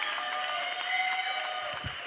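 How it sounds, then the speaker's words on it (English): An audience at an advertising industry conference claps in a brief, fairly thin round of applause heard from within the room. "That was not the best clap I ever got."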